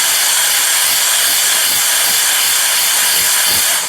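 Steady, loud rushing hiss of an air blower gun puffing air to clean camera gear, continuous and close for the whole stretch, alone with no talk.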